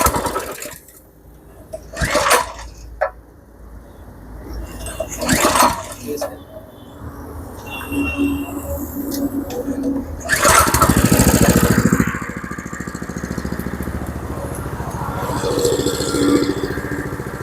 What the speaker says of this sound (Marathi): पाणी चालू केल्यानंतर मशीन चालू करायची